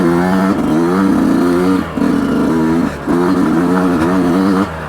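A Yamaha YZ125X two-stroke dirt bike revs hard and loud up close, its buzzing engine note dropping out briefly twice as it shifts gears, including a clutchless change, before settling into a steady rev.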